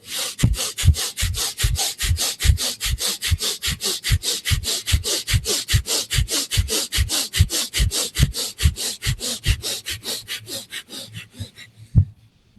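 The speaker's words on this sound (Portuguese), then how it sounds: "O ideal é que você ouça um ruído bem forte pelas suas narinas, parecido com esse que eu vou fazer para você aqui agora" Rapid, forceful breaths pump sharply through the nostrils in a steady, fast rhythm of about two to three per second, loud and close, then stop abruptly with one final burst.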